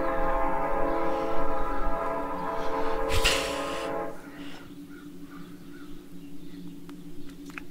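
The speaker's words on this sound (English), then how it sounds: "Train is coming soon." Train pulling into a station in a horror video game: a steady rumbling approach with a sharp burst of squealing brakes at the midpoint, then a lower idling hum and faint clanks as it settles.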